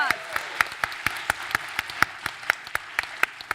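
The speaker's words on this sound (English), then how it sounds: "Let's give them a round of applause." At the Calgary Invitational Elementary Spelling Bee 2018, the audience claps for the contestants. Sharp, distinct hand claps fall in a steady quick beat, and a brief voice comes in at the start.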